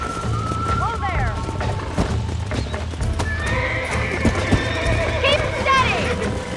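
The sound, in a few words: horse neighing while being broken in, Red Dead Redemption video game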